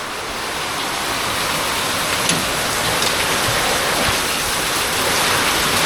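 Steady heavy rain and rushing floodwater during Typhoon Fung-wong in Bicol, a dense, unbroken wash of noise with no voices, holding even and loud throughout.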